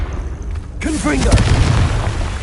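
A Confringo fire spell fired in the Hogwarts Legacy game, a loud deep booming blast with crackling rumble that swells and lingers, preceded by a short voice line.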